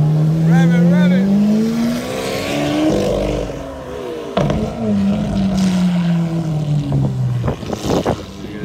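A big Maserati GranTurismo at a street supercar gathering in Miami revs loudly and close by, its engine note climbing and falling in long sweeps, with people talking over and around it.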